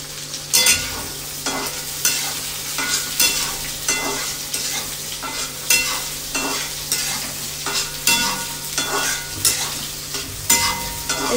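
Onions sizzle loudly in a pan while being made into poha, with repeated scraping stir strokes at a steady, roughly once-a-second rhythm over the continuous frying hiss.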